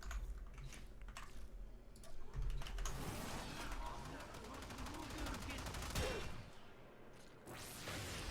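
Strun Wraith shotgun fired in Warframe: a few heavy blasts stand out over a busy game backdrop of rapid clicks, whooshes and clatter, with talk running under most of it.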